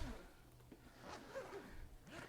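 A zipper on a PGYTECH OneMo camera bag is drawn along in short, uneven pulls, close and fairly quiet, with brief catches and rasps spread over a couple of seconds.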